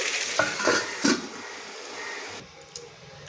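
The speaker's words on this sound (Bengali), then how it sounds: "এবার নুনটা সবজির সাথে ভালো করে মিশিয়ে দিচ্ছি।" Salt being stirred into vegetables in a hot pan, a steady close sizzle with a few scraping stir strokes early on, the frying hiss dropping slightly near the end.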